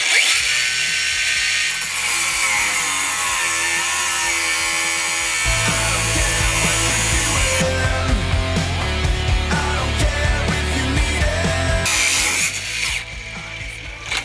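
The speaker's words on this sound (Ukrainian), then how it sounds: "Цікаво, що з того вийде шуруповерт болгарка." A cordless drill fitted with a Revolt multitool angle-grinder attachment whirs loudly and steadily, its pitch and load shifting as it cuts, with a harsh grinding tone and a slight drop near the end.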